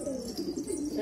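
Pigeon cooing close by, a soft low rolling coo repeated in quick pulses, alone without talk.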